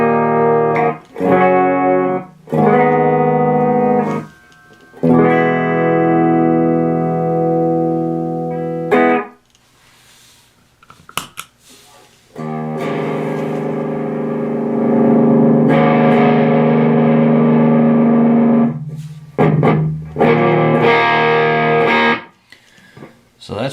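A Gibson Voodoo Explorer electric guitar through a Blackheart Little Giant 5 amp, playing loud, driven chords and single-note phrases in bursts with short gaps and sustained ringing notes.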